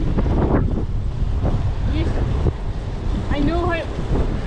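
Wind buffeting a loaded touring bicycle on a bikepacking ride along Hadrian's Cycleway, heavy continuous rumbling gusts close to the microphone, with people talking intermittently underneath.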